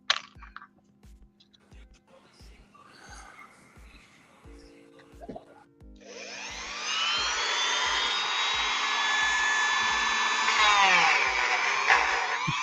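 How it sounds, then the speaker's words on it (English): A small rotary tool starts up partway through and whines steadily at high speed as a small sanding bit grinds an action figure, after quiet ticking and faint handling sounds. "Switch to my small sanding bit."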